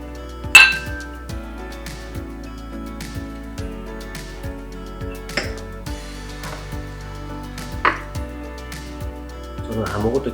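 Glasses clink in a toast over a meal of boiled pork with oysters and rum, a sharp ring early on followed by several lighter taps and clinks spread through, with people talking over them.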